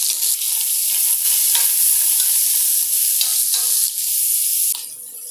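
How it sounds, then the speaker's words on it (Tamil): Four finely chopped onions fry in oil and ghee with cloves and cardamom for a chicken biryani, making a loud, close, continuous sizzle with stirring scrapes that drops off sharply at the end. "பொடியாக வெட்டி வச்சுருக்க 4 வெங்காயத்தை சேர்த்து ஃப்ரை பண்ண போகிறோம்."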